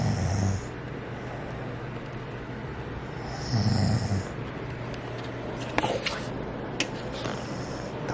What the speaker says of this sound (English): That was his breath.